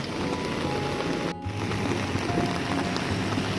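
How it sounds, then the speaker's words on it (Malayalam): Heavy rain pours steadily during a roadside stop on a Goa to Delhi drive, with a dense, even hiss that holds throughout, dipping for an instant near the middle. "നല്ല മഴയും."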